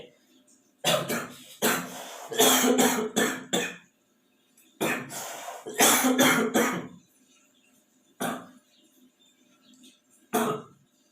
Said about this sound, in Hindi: खांसी आ गया।